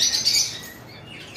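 A pair of yellow-sided conures, double red factor, squawking in a cage at a bird shop, a few harsh high calls up front that fade into quieter chatter, with no voices.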